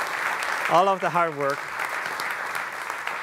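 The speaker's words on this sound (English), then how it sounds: "Maybe you can give them a little applause" An audience applauds the PTC Reality Lab team at a conference talk, steady clapping running under a voice speaking briefly in the middle.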